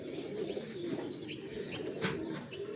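Pet pigeons in Lahore coo softly as they drink water one by one, with low, repeated coos and occasional light chirps at modest volume.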